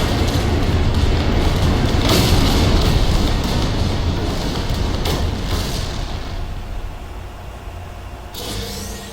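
Missile explosions from a weapons mod in No Man's Sky on PC: a loud, dense roaring rumble with sharp blasts at intervals, sustained throughout and fading slightly toward the end, with no talk.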